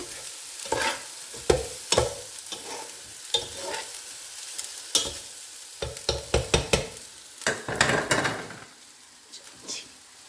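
Leftover rice is stir-fried with egg and tomato in a pan, with repeated close scrapes and clatters of stirring over a soft, steady sizzle and no talking.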